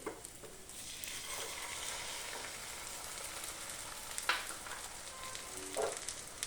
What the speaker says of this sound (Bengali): অল্প একটু অয়েল দেবেন, সাদা তেল। তার মধ্যে ফাটানো যে ডিমটা রয়েছে সেটা অ্যাড করবেন।